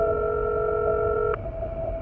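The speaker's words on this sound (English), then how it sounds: "Even after making 3 separate calls," An unanswered telephone rings out, a steady electronic ringback tone droning over a constant background hiss before it cuts off abruptly partway through, with no voices.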